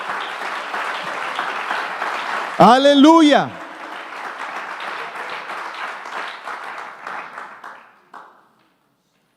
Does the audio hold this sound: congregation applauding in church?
yes